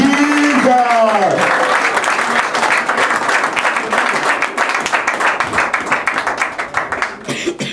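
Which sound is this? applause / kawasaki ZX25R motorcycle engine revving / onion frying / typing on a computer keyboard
applause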